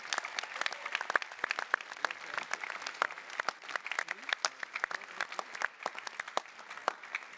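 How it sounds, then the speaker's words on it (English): Delegates at an ALDE party congress applaud in a large hall, crisp individual claps standing out over a steady, continuous round of applause. "give a big round of applause to all those that have been involved in that"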